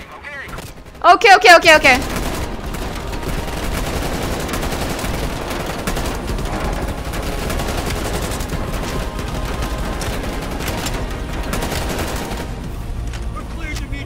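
Heavy gunfire in Call of Duty Black Ops Cold War: sustained fusillades and machine-gun bursts crackle over rumbling engine noise for many seconds, with a loud close burst early on and a brief spoken word.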